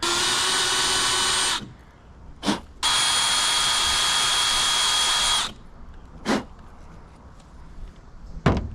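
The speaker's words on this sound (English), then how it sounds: "we can drill them for the set screw" A power drill whines loudly in two long bursts, drilling set screw holes in truck wiper arms, with quiet gaps and a few short clicks and knocks between them.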